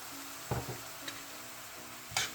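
Fish sauce simmering into a sweet tomato sauce in a pan for striper bass steaks, a soft low bubbling with a few light spoon or pan clicks and one sharper scrape near the end, no voices.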